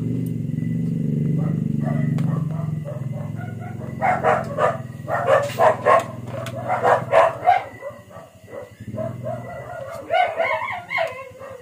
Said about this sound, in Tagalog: Sapa yung iro.